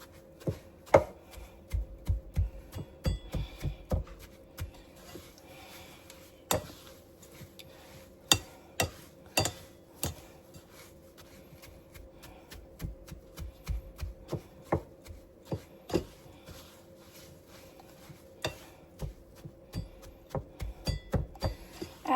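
Grandmother's pastry cutter working peach crisp topping in a bowl, irregular clicking chops and taps, some in quick bursts, others spaced apart, close and fairly quiet.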